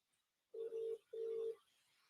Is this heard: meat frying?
no